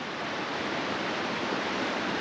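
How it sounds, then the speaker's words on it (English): A river flowing right beside a campsite in Colorado, a steady, even broadband rush of moving water that holds without change from start to finish and stays close and constant. "We got the river right behind us, lull us to sleep."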